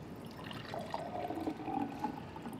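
Water poured into a glass at a lectern during a law school lecture: a faint, soft trickle and gurgle lasting a couple of seconds, with no talking.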